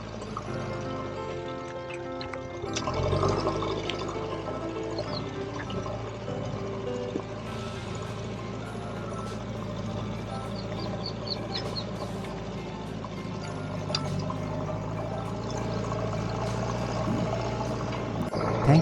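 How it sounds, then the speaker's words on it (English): Sewage water flows and pours steadily into a collection point, a continuous low splashing trickle with faint drips, heard fairly quietly throughout with a small surge near the start. "This seems to be the sewage water that's getting collected."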